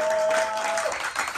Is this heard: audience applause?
yes